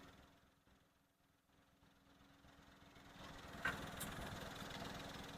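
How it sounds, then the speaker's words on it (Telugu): A Maruti Wagon R VXi petrol car engine idles quietly, a soft low hum that grows slightly louder and busier toward the end, with no talking over it. "ఇంజన్ కూడా చాలా అంటే చాలా సైలెంట్గా ఉందండి."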